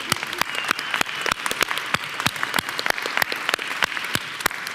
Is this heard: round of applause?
yes